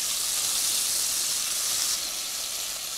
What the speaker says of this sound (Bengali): প্রায় 2 মিনিটের মতো আমি এই চিংড়িগুলোকে ভেজে নিয়েছি